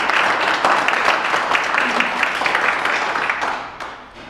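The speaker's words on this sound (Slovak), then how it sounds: "Ešte trochu potlesku." Audience applause after a performance at a blood donor award ceremony, steady dense clapping from a hall crowd that carries on throughout and fades toward the end.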